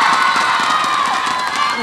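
A live show audience cheers and applauds for a singer, a steady, loud wash of crowd noise filling the whole stretch with no break.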